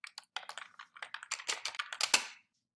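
Quick, close, irregular keystrokes clatter on a computer keyboard, a short burst of typing with small pauses that ends in silence.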